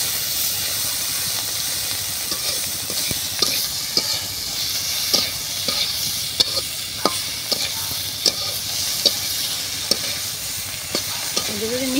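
Shrimp fry with chili and salt in a pan under a constant loud sizzle and hiss, broken by regular sharp clicks and scrapes of a spatula stirring, close and with no talk.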